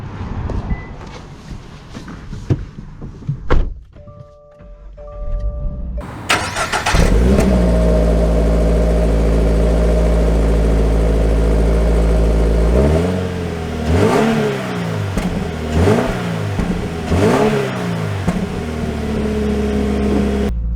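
A 2023 Subaru WRX or BRZ sports car starts off after a few quiet moments, then its engine pulls hard and climbs through several rising revs and gear changes, loud and close from inside the cabin.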